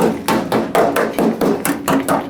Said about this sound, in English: Let's use a claw hammer to do some body work here